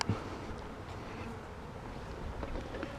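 Honey bees buzzing around a hive just after a transplant of nucs in an apiary, a steady low hum with wind noise over the microphone, continuous and fairly faint throughout.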